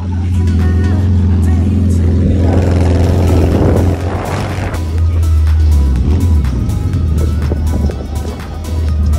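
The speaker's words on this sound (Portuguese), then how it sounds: "velho motorzinho de fusca" An old Volkswagen Beetle engine fitted in a beach buggy in Recife rumbles loudly with a deep steady drone and a surge of revving midway, while people talk over it.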